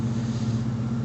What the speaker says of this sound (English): And here's the exhaust sound from behind the truck.